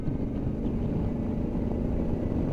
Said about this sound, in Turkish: Bu motor sesini falan da alabileyim istiyorum.